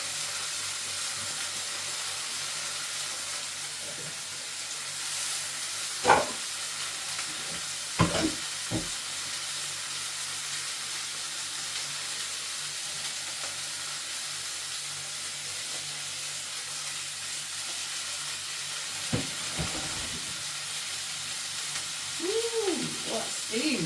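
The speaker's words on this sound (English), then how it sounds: "So I'm going to drain these potatoes now." Boiled potatoes drained in a kitchen: a steady, broad hissing rush of water pouring and steaming runs throughout, with a few brief clanks of pan and utensil and a short burst of bubbling near the end.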